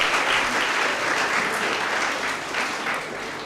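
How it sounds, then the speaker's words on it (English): Warm, steady applause from a school audience for a quiz team at a regional knockout, continuous and fairly loud, tapering slightly at the end. "Please, a round of applause for them."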